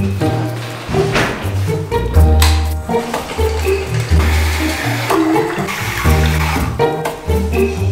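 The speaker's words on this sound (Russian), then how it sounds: "Теперь нужно набрать воды." Water runs and gurgles steadily into a container, with bubbling and sloshing that shifts in pitch as it fills; no talking.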